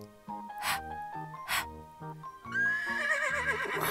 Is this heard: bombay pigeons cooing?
no